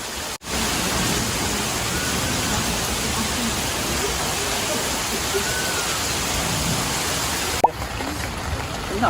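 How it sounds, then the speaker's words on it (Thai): Heavy rain pours down on a national park campsite near Sam Lan waterfall in Saraburi, a dense, steady roar close by that continues throughout, with a sharp knock near the start and another near the end. "ฝนตกหนักเลยอ่ะ"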